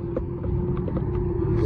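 Lamborghini Murcielago LP640 engine leaving a supercar show, a brief low rumble and steady hum nearby, with no talk.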